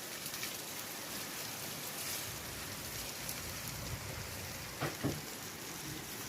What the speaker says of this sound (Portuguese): Graças a Deus que tá chovendo.